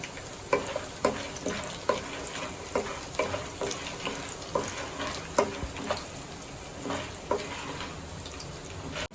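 Peanuts frying in hot oil in a home kitchen for raw tamarind rice, a steady sizzle punctuated by regular stirring scrapes of a spoon against the pan, close and alone with no talk.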